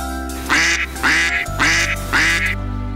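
A mallard duck in a children's animated story quacks four times in an even rhythm, loud and close over a steady background tone.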